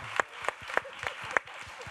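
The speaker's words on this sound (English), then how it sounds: "I'm afraid it's the only time you will applaud." Sparse, scattered audience applause at a talk on emerging economies, a handful of claps spread unevenly over a couple of seconds at moderate distance, with no voices over it.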